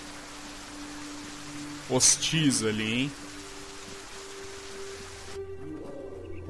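Rain pours in the video game Fragmented as a dense, even wash of noise, with someone speaking briefly over it; the downpour cuts off abruptly near the end, leaving a quieter background.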